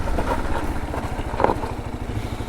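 A 2022 Kawasaki KLR650 motorcycle braking hard from 60 km/h with ABS: a steady, close engine rumble runs throughout, with a brief clattering burst midway and no talk.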